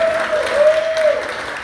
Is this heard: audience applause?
yes